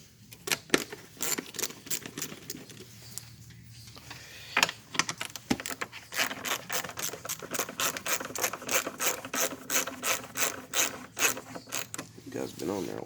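An 8mm socket ratchet clicking while removing bolts on a 2005 Chevy Silverado 5.3 during a water pump replacement, with rapid, even ratcheting clicks in steady runs, close and clear, with no talk.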